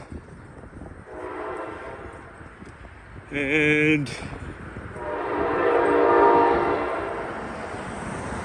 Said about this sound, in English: I hear my train a-coming